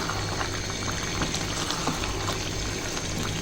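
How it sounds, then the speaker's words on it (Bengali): Meat broth for Sylheti akhni boiling hard on high heat, a dense, continuous bubbling roar heard close up and steady throughout, with no voices. "এখন চুলার আঁচ বাড়িয়ে মাংসের যে পানিটা আছে ওইটাকে শুকিয়ে নিতে হবে"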